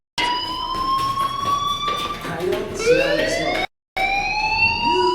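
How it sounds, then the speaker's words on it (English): A fire alarm blares inside the video game Life Is Strange, a loud rising-and-falling electronic wail repeating in cycles with a brief dropout, while a voice talks over it. "do you hear that fire alarm?"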